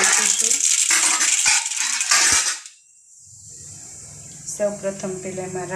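Mustard seeds tipped into hot oil to temper a stuffed bitter gourd curry give a loud, dense crackling sizzle for a couple of seconds, then settle into a quieter hiss as a voice begins speaking near the end.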